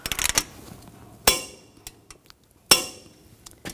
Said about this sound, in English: Now we're going to torque this bolt to 147 foot-pounds.